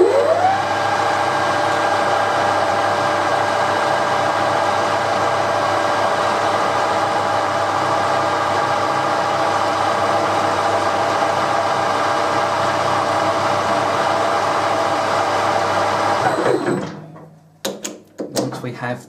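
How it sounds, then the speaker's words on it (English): A metal lathe takes a facing cut, giving a loud, steady machining whir that holds for about sixteen seconds before stopping abruptly, followed by a few clunks. "So we'll come in and take a facing cut and zero the DRO."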